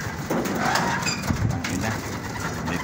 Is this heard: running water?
no